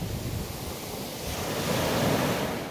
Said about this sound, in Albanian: lartësia e dallgëve arrin në 5 ballë